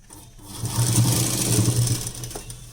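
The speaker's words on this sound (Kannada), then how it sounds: "ಈಗ ನೀಟಾಗಿ ನಮ್ದು ಏನೈತೋ ಅಲ್ಲಿಗೆ ಸ್ಟಿಚಿಂಗನ್ನು ಹಾಕೊಂಬಿಡೋಣ" A sewing machine stitches a blouse lining in one brief, steady run of rapid rhythmic chatter, close by with no talk.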